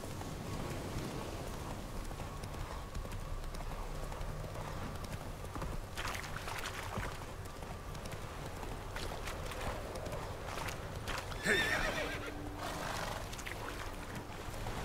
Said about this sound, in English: My horse is drowning.